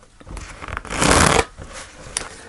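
Oracle cards shuffled by hand during a spiritual card reading: a loud, dense riffling burst builds in the middle, with softer card flicks before and after.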